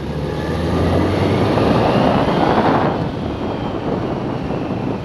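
A salvage Yamaha FZ6R motorcycle engine roars loudly and continuously, with strong wind rush as it accelerates through second and third gear, the pitch swelling and then easing back.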